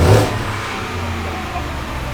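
A bone-stock 2024 Ford F-150 revs up sharply at first, then its engine settles into a steady, fairly loud idle-like drone with no talking over it.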